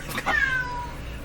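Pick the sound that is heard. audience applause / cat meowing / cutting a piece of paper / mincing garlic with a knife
cat meowing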